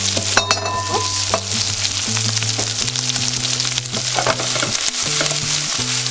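Red cabbage fries over high heat in a hot pan, giving a loud steady sizzle with scraping stir strokes, utensil knocks and a low kitchen hum throughout, no voices.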